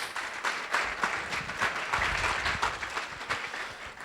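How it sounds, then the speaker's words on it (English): Audience at a chamber of commerce semi-annual meeting and awards event applauds, steady dense clapping from a crowd lasting throughout, moderately loud with no clear speech. "I'd like to give you an applause, all those who are chamber execs."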